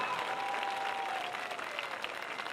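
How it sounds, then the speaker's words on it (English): A crowd in the stands at a Waynesboro at Gettysburg high school football game applauds the homecoming court, a steady sustained wash of clapping heard from a distance with a faint tone running under it. "Please join me in giving them a big round of applause."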